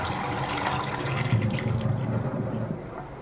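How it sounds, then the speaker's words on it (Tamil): Hot water from boiling kola fish poured off and drained away in a home kitchen, a steady splashing, gushing flow close by that eases off toward the end. "இப்போ தண்ணியை வடித்தாச்சு"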